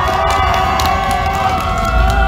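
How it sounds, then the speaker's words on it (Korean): An outdoor political rally crowd in front of the Bank of Korea in Seoul cheers and applauds in a continuous loud mass of voices and clapping, with sustained shouted tones running through the brief burst. "큰 박수 한번 주세요"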